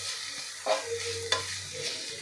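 Grated coconut is stirred into melted jaggery in a pan, with two or three distinct spatula scrapes over a soft sizzle and a low steady hum.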